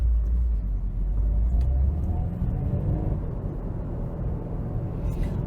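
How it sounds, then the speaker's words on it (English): A 2015 Subaru WRX is being driven. From inside, a steady, heavy low road and engine rumble continues throughout, with no talking. "All right, so let's drive around a little bit."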